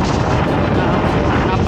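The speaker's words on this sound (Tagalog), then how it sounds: "napakalakas na hangin." Very strong typhoon wind from Typhoon Egay roars loudly and continuously against the microphone, a dense rumbling gust with no pauses across the short stretch.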